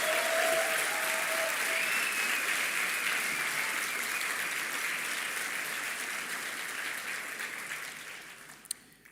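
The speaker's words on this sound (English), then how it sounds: "Can we please get a round of applause for them?" An audience at the INSEAD Class of MIM'27 commencement ceremony applauds warmly, a dense wash of clapping that holds steady and then gradually fades toward the end.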